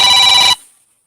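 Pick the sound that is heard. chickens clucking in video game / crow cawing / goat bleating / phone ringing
phone ringing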